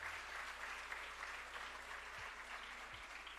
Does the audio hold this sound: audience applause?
yes